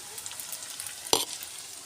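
Onions fry in oil with a soft, steady sizzle, broken once by a brief, sharp scrape of a utensil against the pan.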